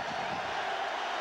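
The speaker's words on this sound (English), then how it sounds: "Crowd gets into it." A stadium crowd at a 2003 college football game between Fresno State and top-ranked Oklahoma keeps up a steady, distant roar with a broad hissing wash and no clear peaks.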